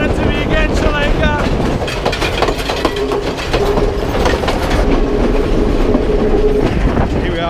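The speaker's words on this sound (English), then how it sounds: "Listen to the noise, the power, the engine." A train engine on the Ella to Nuwara Eliya line in Sri Lanka, heard from aboard as a loud continuous roar with rhythmic wheel clatter and faint squeals, with a voice talking over it.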